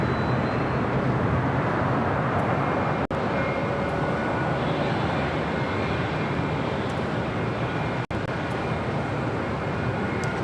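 An airliner at LAX roars steadily on takeoff from the south side runway, a loud continuous broadband engine rumble that stays even throughout with no voices.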